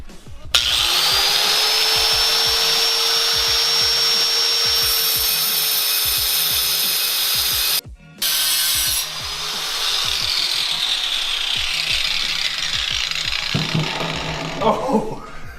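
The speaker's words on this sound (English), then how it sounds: "we're gonna do some more sketchy stuff and trim this Sawzall blade down" Cutoff tool grinding to trim a Sawzall blade down in a garage, a loud steady whine with a brief interruption midway, then winding down with a voice near the end.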